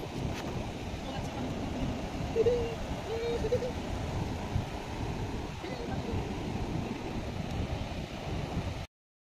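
Sea surf washing onto the beach at Shoula bridge, a steady broadband rush of waves mixed with wind buffeting the microphone, continuous and fairly close.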